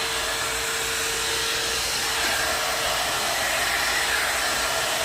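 Steady, close hair dryer blowing continuously as natural hair is blow-dried, a constant airy roar with a faint whine and no talking.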